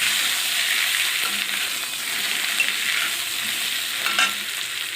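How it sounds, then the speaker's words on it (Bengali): Cut potato pieces fry in garlic oil for a Bengali aloo dum, a continuous close sizzle with scraping stirring and a few sharper clinks near the end, no talking. "রসুন ভাজার তেলের মধ্যে আলু কাটা দিয়ে দিচ্ছি।"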